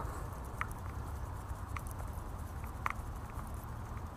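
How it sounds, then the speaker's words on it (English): Steady rain falls over a flooded river during catfish fishing, a constant soft hiss with scattered light patters and taps, no one talking. "It's been raining on me for a while now."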